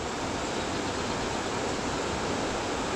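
The Ten Mile River in Connecticut rushes over rocks, small waterfalls and drop-offs along the Appalachian Trail. It makes a steady, dense, close hiss and roar with no voices.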